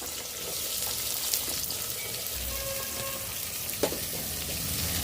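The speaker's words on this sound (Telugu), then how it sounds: "ఇప్పుడు పచ్చిమిర్చి, కొంచెం పచ్చిమిర్చి ఫ్రై అయినాక ఆనియన్స్ వేసుకోవాలి." Green chillies, with onions added, fry in plenty of oil in a pan for a spicy chicken fry, giving a steady, close hiss of sizzling with a few faint clinks of stirring and no talk.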